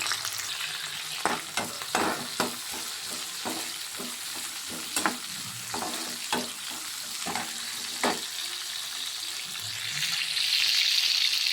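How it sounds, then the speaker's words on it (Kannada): Tomato pieces, cinnamon and cloves fry in a hot pan for a horse gram sprouts curry, with a continuous sizzle broken by repeated scraping stirs, then a louder hiss near the end. "టమోటో ಚಕ್ಕೆ ಲವಂಗ ಪೀಸ್ ಹಾಕ್ಕೊಂಡಿದ್ದೀನಿ ಇಷ್ಟನ್ನು ಚೆನ್ನಾಗಿ ಫ್ರೈ ಮಾಡಬೇಕು"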